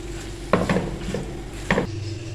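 Macaroni with chicken and ketchup is stirred in a pot over a soft background sizzle. A few distinct scraping clacks of a spoon against the pan break through before the sizzle cuts off, with no voices.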